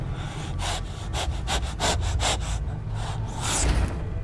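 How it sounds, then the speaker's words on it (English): Heavy, rhythmic breathing close to the ear in the horror game Among the Sleep, a steady series of raspy breaths repeating roughly every third of a second and loud against a low rumbling background. "The loud breathing in your ear is so unnerving"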